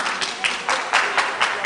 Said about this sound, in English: Please, audience, stop clapping so that I finish.